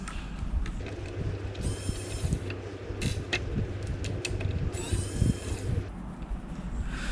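Screws being backed out of a Nacon Revolution Unlimited Pro game controller during disassembly, a steady close-up creaking and clicking of a small screwdriver working plastic, with faint scattered taps over low background hum.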